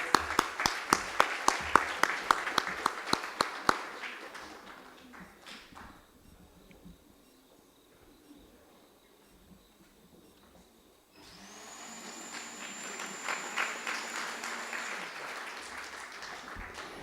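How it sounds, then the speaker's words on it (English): Brisk, loud clapping from an awards ceremony audience at a vice-chancellor's distinguished awards event dies out after a few seconds, leaving a hush and then a steady humming drone with a faint high tone. "One more round of applause."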